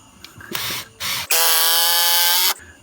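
Power drill whirs in short bursts: two brief spins, then a longer steady run of about a second, close and loud with nothing else over it.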